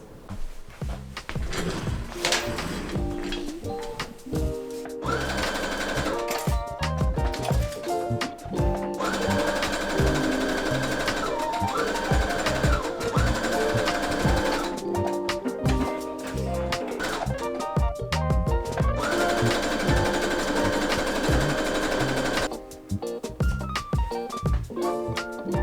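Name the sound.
sewing machine sewing up shorts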